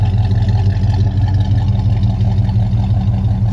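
A 1969 Pontiac GTO convertible V8 runs close by, a loud deep steady engine rumble with rhythmic low-end throb and no voices.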